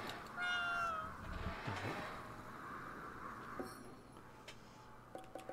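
A cat meows in the video game Ghostwire Tokyo, a short rising-falling call near the start, under quiet game ambience and faint ticking.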